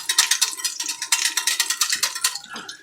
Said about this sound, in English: Go ahead and whisk it up.